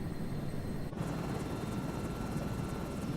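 A Chinook helicopter in Microsoft Flight Simulator 2024 produces a steady, dense rotor and engine drone with a constant low rumble, with one brief dip near the start.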